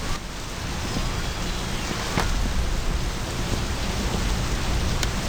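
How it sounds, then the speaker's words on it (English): Heavy rain pours at night in a driving game, a dense continuous hiss of drops on surfaces with a sharp crack or two, close and steady. "It's definitely nighttime and pouring rain."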